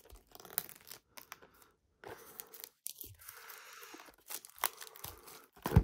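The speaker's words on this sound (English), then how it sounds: "we got the plastic wrapping off" Plastic wrapping is torn and crinkled off a Dragon Shield Matte Purple card sleeve box, with close crackling and crumpling bursts that come and go in irregular spurts.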